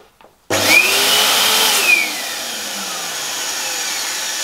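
An electric pump inflating balloons for a balloon garland switches on abruptly after a moment of quiet. It keeps up a loud, steady whirring drone that eases slightly in tone partway through.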